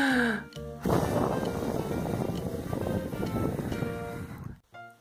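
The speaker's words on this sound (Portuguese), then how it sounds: "Eu sei soprar vela muito forte." A hard puff of breath blowing out birthday candles at a children's party, a loud close gust of air lasting a few seconds before fading.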